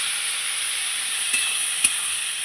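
A paste of ground white and black mustard seed with ginger sizzles steadily in a hot pan, a dense continuous hiss with a couple of faint clicks, heard alone.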